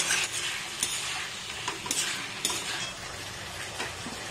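Sauce stirred into a hot pan while cooking chilli fish, a busy scraping and clinking of utensil against metal with faint sizzling underneath, steady throughout with a few sharper knocks.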